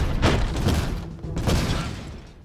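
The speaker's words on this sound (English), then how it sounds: "Hit by gunfire near the fan." Gunfire and explosive booms from combat in the city-builder game Airborne Empire, two loud bursts about a second apart with a rattling tail, no talk over them.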